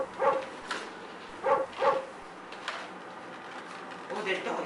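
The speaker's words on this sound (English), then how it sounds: "Oh, that dog is so cute." A small pet dog named Napoleon gives a few short barks and yips at close range, in separate bursts with pauses between, and a bit of indistinct human voice is mixed in.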